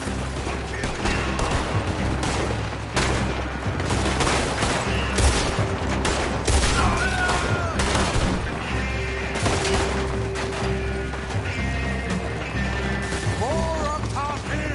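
Dense gunfire from Red Dead Redemption 2 during a shootout, with volleys of rifle and pistol shots, crashes and booms overlapping continuously at steady loudness, with voices in the clip.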